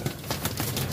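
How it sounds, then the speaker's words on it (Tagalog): Pigeons cooing in a loft during trapping training, a steady low murmur of several birds close by, with no talk over it. "Sisigla ng mga ibon natin, mga kalapatids."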